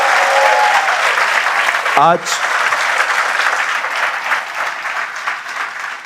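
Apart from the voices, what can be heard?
audience applause in church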